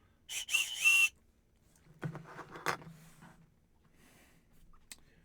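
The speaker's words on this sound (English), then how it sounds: "look, another Oscar Mayer Wiener whistle" A plastic Oscar Mayer Wiener whistle, a Wienermobile-shaped novelty toy, gives a short shrill burst about a second long with a wavering pitch, followed by quieter handling and rustling noises indoors.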